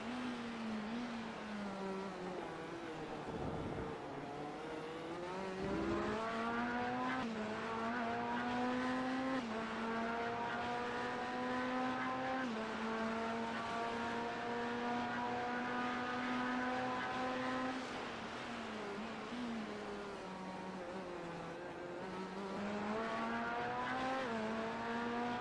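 Race cars lapping the track during the 12 Hours of Sebring, a continuous loud engine drone rising and falling in pitch as cars accelerate, downshift and pass, with overlapping engines heard throughout and no talking.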